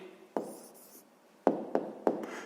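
A pen or pencil writes a maths answer on paper, making a few short scratching strokes in separate bursts, close and quiet, no talking.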